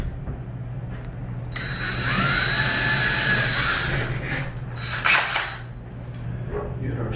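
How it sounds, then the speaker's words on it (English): A power drill bores the second hole in a wall for a towel bar mount anchor, its motor whining up steadily for a few seconds, then tapering, with a sharp knock after. "We're going to drill our second hole."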